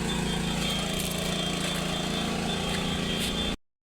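Steady, loud engine rumble from a tractor pulling a loaded trolley up a slope, holding a constant labouring drone close by until it cuts off abruptly at the end.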